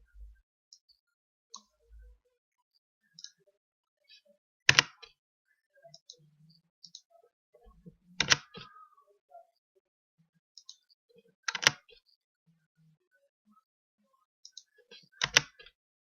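Typing on a computer keyboard, sparse soft key taps scattered through a quiet room, punctuated by four sharper, louder strikes of the enter key spaced a few seconds apart.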